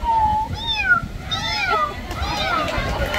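A person imitates a cat, giving a series of rising and falling meows, loud and close over a steady background murmur.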